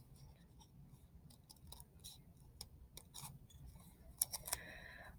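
Scissors snip into a folded paper snowflake, a series of faint crisp cuts and paper rustles, closely recorded but quiet, ending in a few sharper snips.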